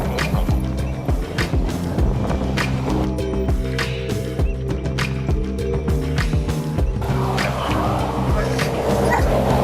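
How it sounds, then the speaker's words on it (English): A police drug detection dog barks and yips repeatedly in short, sharp bursts at a roadside traffic stop, close and loud, mixed with scraping and clattering and faint background voices. "He calls a drug dog to the scene"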